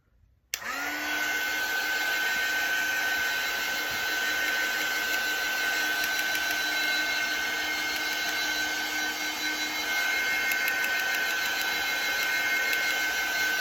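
A heat gun or hair-dryer-style blower drying a fresh resin coat on an upcycled cutting board, switching on abruptly and then running as a steady, loud, close whine and rush with no break and no talk.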